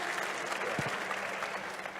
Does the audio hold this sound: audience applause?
yes